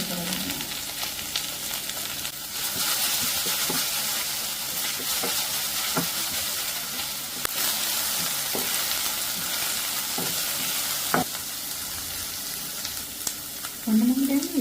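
Vegetables sizzle in hot oil as they are stir-fried with pepper and salt, a constant crackling hiss with occasional stirring clunks and scrapes, close up and without speech.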